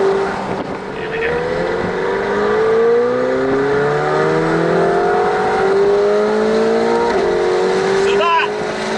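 A McLaren 720S engine pulls steadily at half throttle on a public road, its loud droning note climbing through a gear and then rising again after a shift, with wind rush constant throughout.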